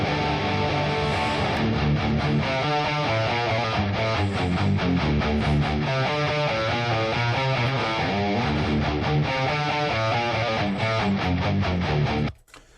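A bass guitar plays a riff in a rock song, loud and continuous with distortion within the full mix, driving steadily before stopping abruptly near the end.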